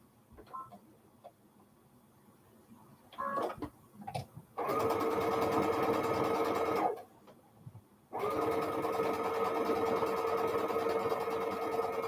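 A sewing machine stitching fabric strips onto a foundation for string quilt blocks, two sustained whirring runs of steady stitching separated by a pause, with light handling clicks and taps before the first run.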